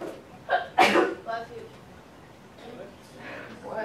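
A single sharp sneeze bursts out in a classroom during a precalculus lesson, brief and fairly close, with a spoken question right afterward and a few other voices and noises around it.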